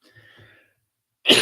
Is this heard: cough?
yes